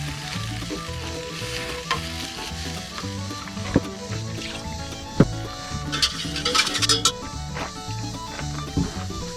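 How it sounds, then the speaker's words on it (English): Gravy sizzles and bubbles in a pan on an outdoor camp stove while a spoon stirs it, a continuous close frying hiss broken by occasional scraping knocks and clinks. "the tedious part of gravy is keeping it stirred all the time so that it doesn't start caking up and building up on the bottom"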